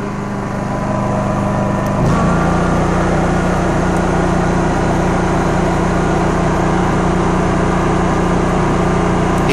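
Honda EU3000i Handi inverter generator running steadily after a throttle wiring repair, a loud, even engine hum that rises slightly near two seconds and then holds constant with no voices.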